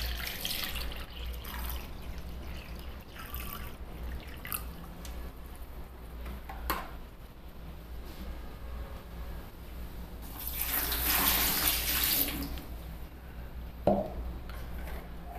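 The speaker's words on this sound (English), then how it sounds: "pour the water from the tray into the measuring cup" Water from an aluminum foil takeaway tray trickles and splashes quietly into a measuring cup, with a louder pouring surge partway through and a small clink near the end.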